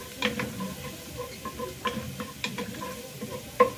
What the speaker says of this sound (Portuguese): Vou deixar aqui o nosso alho dar uma douradinha